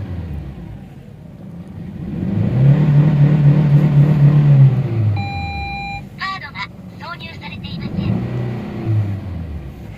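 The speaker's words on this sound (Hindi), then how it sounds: "गाड़ी को स्टार्ट करते हैं और गाड़ी में मिसिंग है अभी भी। जैसे ही हम गाड़ी को 3-4 बार एक्सीलेट करेंगे" A Honda Insight with a misfire starts and revs, the engine rising and holding for a few seconds before it settles to an uneven idle. Several electronic beeps sound partway through, and someone talks over the engine.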